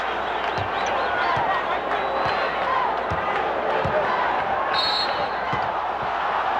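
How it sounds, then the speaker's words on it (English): An arena crowd at the 1991 NBA Finals, Lakers versus Bulls, roars steadily and loudly at Chicago defense while a basketball bounces in a regular rhythm beneath the noise and a whistle briefly cuts through. "Crowd responding to the defensive work by the Bulls"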